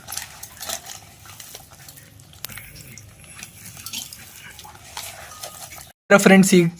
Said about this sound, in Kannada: ಈ ರೀತಿ ಮೊಸರನ್ನು ಹಾಕ್ಕೊಂಡು ಸ್ಮ್ಯಾಶ್ ಮಾಡ್ಕೊತಾ ಸ್ಮ್ಯಾಶ್ ಮಾಡ್ಕೊಳ್ಳಿ